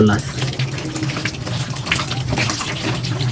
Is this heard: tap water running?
yes